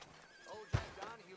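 A horse in Red Dead Redemption 2 gives a short, loud neigh close by, with a bit of hoof noise and game speech heard around it.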